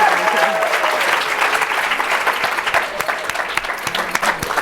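Audience applause breaks out at a Visionary Women 2023 International Women's Day celebration honoring Changemaker honorees, a steady, dense wash of clapping from a large crowd that holds for several seconds.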